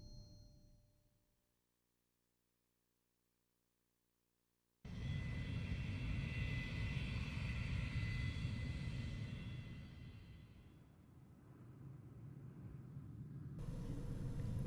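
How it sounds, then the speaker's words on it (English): Small airplane engine in the Dreamcast game Maken X, a steady droning propeller roar that starts abruptly after a quiet lead-in, swells, dips slightly, then builds again, loud and continuous with no talk. "What a small airplane."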